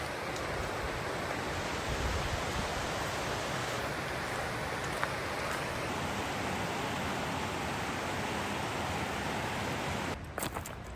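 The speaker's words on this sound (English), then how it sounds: "Oh, look it, we have a waterfall." Waterfall beside a hiking trail in the Great Smoky Mountains rushes in a steady, dense wash of roaring water throughout, with no voices over it.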